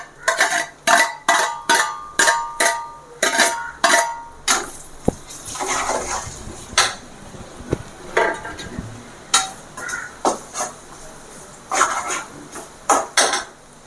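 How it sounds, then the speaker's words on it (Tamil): Radish pieces being stirred into pickle in a pan, with a run of sharp, rhythmic spoon-against-metal scrapes and clinks, a short stretch of softer wet mixing in the middle, then more clinking strokes, close and fairly loud. "இப்போ வந்து இந்த முள்ளங்கி வச்சுருக்கோம் இல்லைங்களா அதை அப்படியே போட்டுடலாம்"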